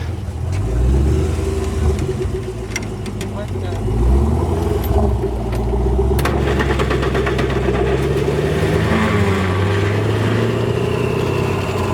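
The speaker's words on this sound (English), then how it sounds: "I'll start the engine, let you hear it run." A restored 1948 Willys Jeep CJ-2a four-cylinder engine running at a steady, smooth idle, close and continuous, while passing traffic adds a faint wash in the background.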